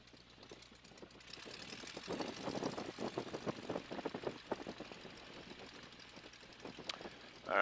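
Boeing Stearman biplane engine idling before takeoff, a low rapid knocking rumble that starts quiet and swells slightly, fairly distant and steady, with a louder bump at the very end.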